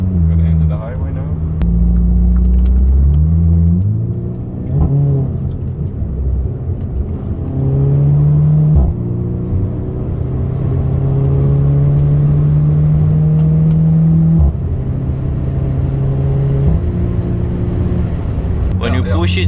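Volkswagen Beetle 2011 with a Turbo TSI engine accelerating onto a highway, heard from inside the cabin as a loud rising engine drone climbing through the gears, with shifts breaking the steady pull.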